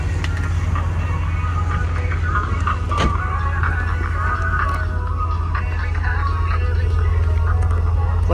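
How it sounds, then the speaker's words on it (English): A 2000 Nissan Skyline R34 GT idles outside with its aftermarket muffler, a steady low exhaust rumble droning evenly throughout at moderate loudness, with a brief sharp knock near the middle. "I'll get you the muffler sound too"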